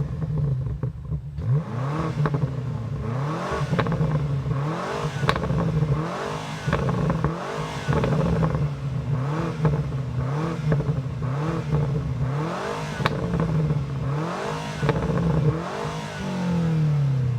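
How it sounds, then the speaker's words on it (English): A 2025 BMW M5 V8 engine, exhaust valves open, revs repeatedly, rising and falling in a steady rhythm of throttle blips, loud and close with some burbling. "now the V8 is on, the exhaust valves are also open, and you can rev the all new M5"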